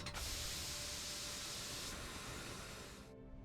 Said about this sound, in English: so that evacuated the steam from the lower half